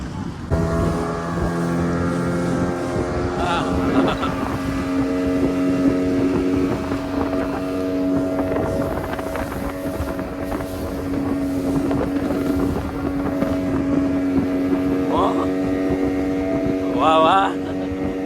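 A motorboat engine drones steadily throughout on a family boat ride from Shivrajpur beach to an island, its tonal hum constant with wind buffeting the microphone.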